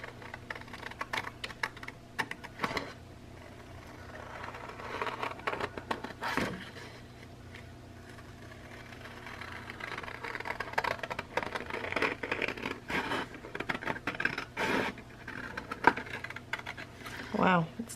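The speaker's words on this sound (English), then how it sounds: "And so I am going to cut this out." Scissors snip steadily through traced paper while a shaped flip pocket is cut out for a paper craft project, giving close, irregular clicking cuts with brief pauses throughout.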